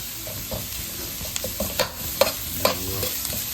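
Garlic and ginger sizzle in a hot pan for chicken fried rice, a close crackling fry broken by a few sharp scrapes and clinks of the spatula as they are stirred.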